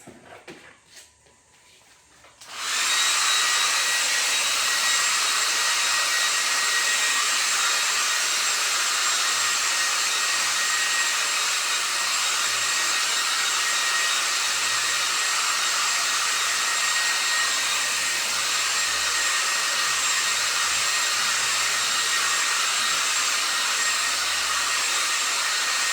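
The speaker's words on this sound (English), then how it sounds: "We'll blow dry that for a second and then we'll start doing some flowers." A hair dryer blows on wet paint in an art session, starting after a short quiet moment and then running as a loud, steady whoosh with no voices over it.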